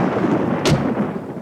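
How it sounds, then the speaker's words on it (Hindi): Thunderstorm in an animated scene: a loud, dense wash of rumbling thunder and heavy rain filling the whole moment, with a brief sharper crack in the middle and no voices. "लगता है बारिश होगी।"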